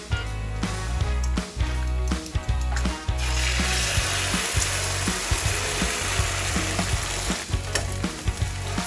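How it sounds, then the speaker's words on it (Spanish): Fried totopos tortilla chips and beaten salted eggs sizzle in a skillet while a utensil scrapes and stirs them in a quick clicking rhythm, then the frying swells into a loud steady crackle with occasional scrapes. "Vamos revolviendo para que todos los totopos queden integrados con huevo."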